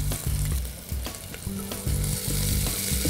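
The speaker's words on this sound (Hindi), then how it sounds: "just slightly saute both of them, ताकि जो गार्लिक का कच्चापन है वो निकल जाए" Chopped garlic and onion sauté in a hot pan for fried rice, a dense continuous sizzle with repeated stirring scrapes and clanks of the utensil against the pan, close and loud, with no voices.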